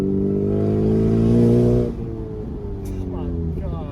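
A modified 2019 Honda Civic Sport revs hard with a loud, steady, rising engine note for almost two seconds, then eases off into a lower drone as someone talks over it.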